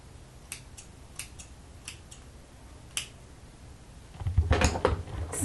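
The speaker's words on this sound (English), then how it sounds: "Just take your time and cut away that excess." Scissors trimming excess lace from a glueless 5x5 lace closure wig, a handful of sharp, quiet snips spaced apart, followed by a louder rustle of handling close by.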